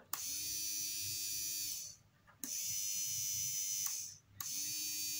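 The small electric motor of a toy locomotive whirs with a high, steady buzz, cutting out briefly twice and restarting as it runs forward and backward, close by with no talking.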